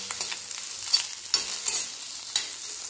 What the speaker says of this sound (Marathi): थोडीशी निबर होते म्हणून थोडंसं फ्राय करून घेते मी तेलामध्ये